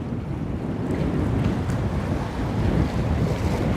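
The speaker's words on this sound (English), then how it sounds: "These waves are coming up with the tide" Storm-driven waves surge and wash beside the pylons of Busselton jetty in Western Australia, a continuous loud roar of surf mixed with heavy wind buffeting the microphone, with no voices.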